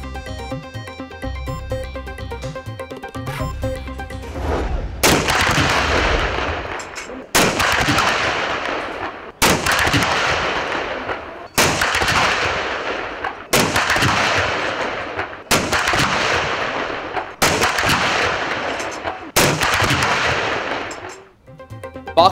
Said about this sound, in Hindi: पाक फौज के चाको चौबंद दस्ते ने 21 तोपों की सलामी दी।